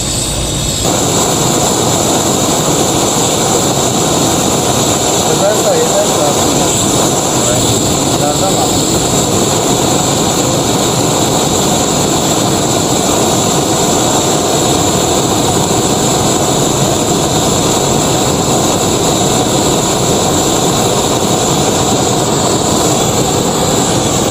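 A gasoline-fuelled blowtorch fed by an air compressor roars at full throttle in the open air, a loud, unbroken rushing flame with a steady whine on top, sustained evenly throughout.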